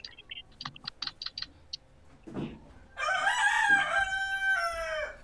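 Roosters crowing in the video game Free Fire: a loud, drawn-out cock-a-doodle-doo rings out after a run of quick keyboard-like taps and a brief rustle.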